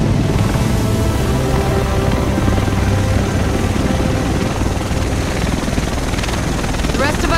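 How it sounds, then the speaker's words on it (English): In Tom Clancy's The Division game, a helicopter arrives with a loud, steady rotor thrum and engine roar that dominates throughout, while voices speak over it. "The rest of us should be in this chopper."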